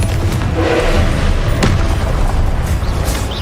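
A heavy magical blast from the Confringo spell rumbles in a loud, sustained boom with thudding low impacts and crackling bursts throughout.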